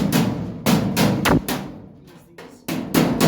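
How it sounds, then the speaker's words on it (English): A hammer and dolly reshape heat-warped, freshly welded steel boot floor panels on a classic Mini MK3 restoration: a series of sharp, ringing metallic strikes in uneven clusters, close and loud, with short pauses between blows. "Just going to use this hammer and dolly just to ease"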